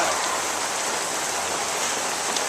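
Steady rain falls outside, an even, dense patter that fills the whole moment with no voices.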